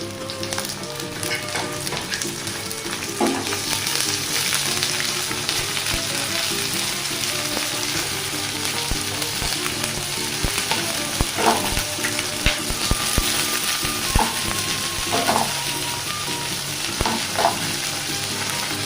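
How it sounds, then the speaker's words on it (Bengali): Onions and mixed vegetables fry in a pan with a steady, close sizzle, broken by occasional scraping stirs and clicks of a utensil against the pan. "পেঁয়াজগুলো মোটামুটি ভাজা হয়ে এসছে, এবার আমি এর মধ্যে সব সবজিগুলো দিয়ে দেবো।"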